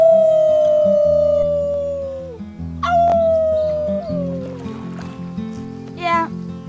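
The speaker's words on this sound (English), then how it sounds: "Let's start with our team howl." Characters in the video game Life Is Strange let out a drawn-out team howl, a long falling wail repeated a few times over steady background game music.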